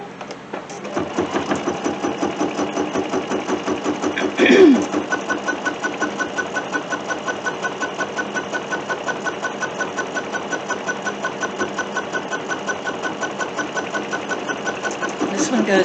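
Sewing machine stitching down fabric bunting, a steady rapid mechanical whir and needle clatter running continuously and close, with a brief bump partway through.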